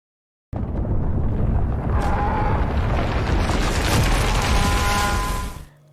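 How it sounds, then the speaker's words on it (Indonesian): A large cinematic explosion as Raccoon City is destroyed in a Resident Evil zombie film, a sudden loud blast swelling into a sustained roaring rumble with debris and crackle that holds for several seconds before cutting off. "Penembakan itu pun menyebabkan ledakan yang cukup besar, dan tepat saat itu juga seluruh Raccoon City dihancurkan."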